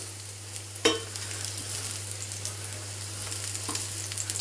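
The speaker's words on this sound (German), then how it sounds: "die letzten 3 braten so vor sich hin" Breaded green asparagus spears fry in a pan with a steady, gentle sizzle, broken by a couple of brief knocks and scrapes against the pan, with no speech.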